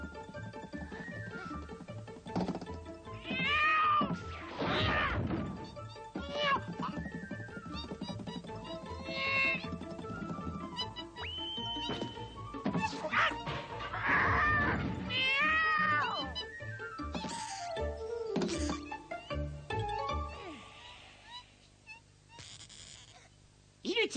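A cat meows repeatedly at close range, drawn-out and wavering calls scattered through a storytelling scene, with people talking and moving around it.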